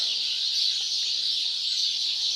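Many birds chirp together at dawn at Nilkanth Dham in an even, high-pitched chorus that holds steady throughout, with no one talking.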